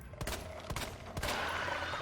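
Gunshots from Leon in Resident Evil 4, three sharp shots about half a second apart over a quiet game background.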